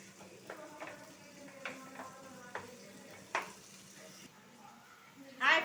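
Onions frying in a pan, soft sizzling under a series of scraping stirs and clinks from a utensil, ending with a louder clatter.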